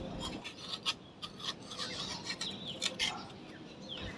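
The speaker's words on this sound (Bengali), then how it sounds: "কিনারে ঘেঁষে রিং করে মাটিটাকে একটু খুঁচিয়ে দিলাম।" A small hand tool scrapes and pokes soil in a ring around the edge of an 8-inch plant pot, making soft, gritty rasping strokes that repeat close and quiet, with faint bird chirps in the background.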